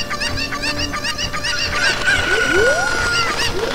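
In Ocarina of Time, a Cucco chicken squawks in quick repeated honking clucks, joined by rising whistling game effects, loud and continuous with no voices.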